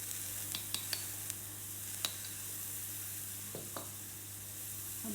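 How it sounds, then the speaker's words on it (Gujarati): Spice masala of poppy seeds, chili powder, coriander-cumin and turmeric roasts in a pan, making a faint, continuous sizzle broken by a few light scrapes and taps of stirring. "આ બધો મસાલો હલાવવાનો. પાંચ મિનિટ શેકવાનો."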